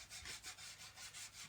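240 grit sandpaper rubs along the cut edge of an IKEA VOXTORP high-gloss kitchen end panel in quick, even back-and-forth strokes, about seven passes, close and steady with no voices.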